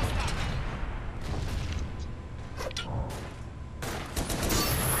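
Artillery fire in the video game Toy Soldiers: War Chest, with a dense, continuous barrage of booming blasts and gunfire rumbling throughout, bursts swelling near the start and again at the end.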